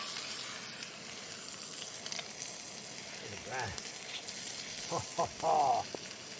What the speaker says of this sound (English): fried potatoes and onions, cooked in the Scotsburg galvanized steel frying pan